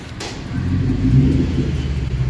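A Toyota 4.7 V8 idling through a freshly installed 3-inch straight-pipe exhaust, a loud, steady, deep rumble heard up close without a break.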